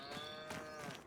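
Cows low in the farming video game Farming Simulator, a long drawn-out moo with steady harmonics followed by a second call, ending in an abrupt loud click.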